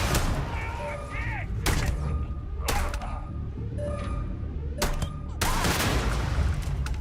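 Explosions in Starfield combat: several sharp broadband blasts and bangs strike at irregular intervals over a constant low rumble of gunfire and battle noise, fairly close and loud, with faint voice-like tones in between.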